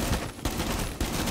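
Bursts of rapid rifle fire sprayed in Rainbow Six Siege, loud close rattling volleys with a short pause between two bursts.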